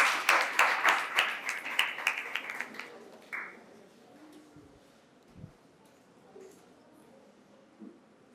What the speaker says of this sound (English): Please, let's give our debaters a round of applause again.